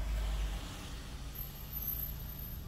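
Heavy road traffic with trucks in rainy stop-and-go conditions, a low steady rumble of idling engines with a faint high air-brake hiss partway through, no voices.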